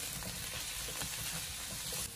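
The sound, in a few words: potatoes frying in a wok, being shaken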